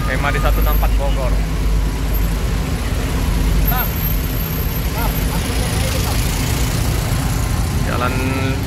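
Congested traffic on the eastern highway outside a Rosalia Indah bus ticket office, with a continuous low rumble of idling buses and car engines, nearby revving and horn-like tones, and people talking over the din.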